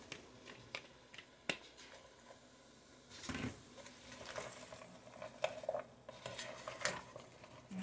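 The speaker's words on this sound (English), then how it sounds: "next we're going to add the main ingredient, which is our cabbage" Chopped cabbage, about six cups, tumbles into a soup pot and is stirred with a utensil, giving soft rustling, scraping and occasional metallic clinks at close range with no talking.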